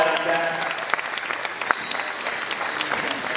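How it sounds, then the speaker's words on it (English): Applause at a karate belt test for young students, a brief burst of clapping from the watching crowd with a few sharper individual claps, fading out over a few seconds with a voice faintly under it. "Give it a big round of applause."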